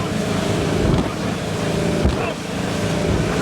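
Wind buffeting a microphone aboard a 1973 Cobalt boat with a Mercruiser 165 hp engine on the Mississippi River, gusty rumble over the steady drone of the motor and water, with a few bumps and thumps.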